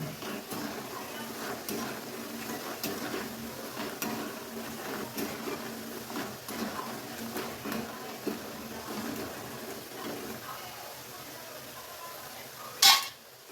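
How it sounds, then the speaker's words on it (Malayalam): Fried plantain pieces are scooped out of a pan of hot oil, with scattered metallic scrapes and clinks of a ladle against the pan over a faint background sizzle, ending in a sharp louder clatter. "അങ്ങനെ കായ ഉണങ്ങി വന്നിട്ടുണ്ട് നമുക്ക് കോരി എടുക്കാം"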